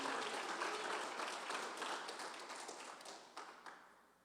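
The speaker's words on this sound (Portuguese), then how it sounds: "Podemos aplaudir o Senhor mais uma vez" A church congregation claps together during a worship service, sustained dense applause that gradually thins and fades, with a few distinct claps near the end.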